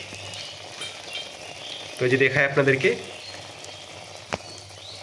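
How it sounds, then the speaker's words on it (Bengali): Jalebi batter dropped into hot oil, fried for iftar at home, gives a steady low sizzle and bubbling throughout, while someone talks briefly over it. "তেলের মধ্যে এই ডোটাকে ছেড়ে সুন্দরভাবে এই জিলাপিটা তৈরি করতে পারেন"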